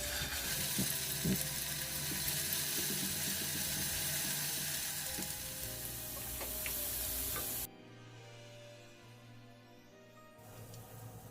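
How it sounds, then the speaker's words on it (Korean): Minced garlic fries in cooking oil in a pan, a dense, even sizzle that carries on steadily, then drops sharply to a quiet hiss and returns a little lower. "팬에 식용유를 두른 뒤 다진 마늘을 넣어 향을 내줍니다."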